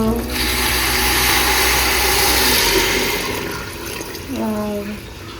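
A steady, full rush of water pours into a pot of rice for a biryani coloured with butterfly pea flowers, for a few seconds, then fades. A voice speaks briefly near the end.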